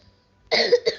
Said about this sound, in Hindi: मुझे खांसी है थोड़ी थोड़ी